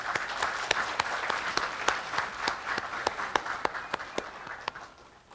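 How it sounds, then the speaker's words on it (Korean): A crowd at a university graduation ceremony gives the graduates sustained applause. Many hands clap steadily and fairly loudly, with a few sharp individual claps standing out, before the sound tapers off at the end. "참석자 여러분, 우리 졸업생들에게 큰 박수를 보내주시기 바랍니다"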